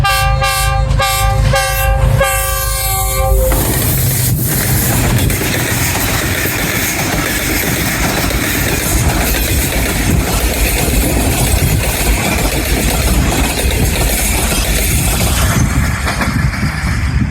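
A GU20 diesel locomotive hauling the 102 Down railcar speeds through Kaluwal railway station on a curve. It opens with several loud, rhythmic horn blasts, then a close, roaring rush of wheels and carriages passing at full speed.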